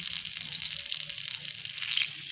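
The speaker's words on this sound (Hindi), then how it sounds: "मैंने सारी जो मिर्चें हैं उनको इसी तरह से उसकी कोटिंग करके मैं इसको फ्राई कर रही हूँ" Chillies in a batter coating fry in hot oil in a pan, giving a steady, close, bright sizzle with continuous crackling and no talk.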